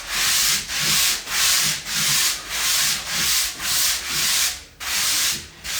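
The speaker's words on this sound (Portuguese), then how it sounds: "O mais chatinho é a lixa a 80." A kiteboard is sanded by hand with 80-grit sandpaper in about eight rhythmic, evenly spaced strokes, each a loud, close, hissing scrape with brief pauses between.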